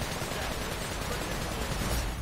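Dense, continuous gunfire fills Sunset Overdrive, a steady loud clatter of shots with no clear breaks between them.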